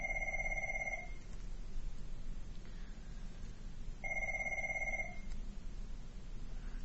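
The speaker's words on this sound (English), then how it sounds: "We'll wait for my phone to stop ringing" A phone rings in two electronic bursts about four seconds apart, each roughly a second long, over a quiet, steady room hum.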